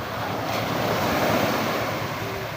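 Sea waves wash steadily onto the shore in a continuous, fairly loud roar of surf with some wind noise over the microphone and no talking.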